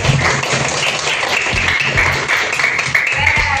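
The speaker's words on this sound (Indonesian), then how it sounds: "Oke, tepuk tangan untuk kita." Classroom of fifth-grade pupils applauding together, a steady dense patter of many small hands close by, with faint voices mixed in.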